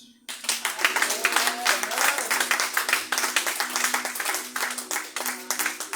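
A church congregation bursts into applause and clapping that swells to a sustained, dense roar, with a steady low hum beneath and shouting mixed into the clapping.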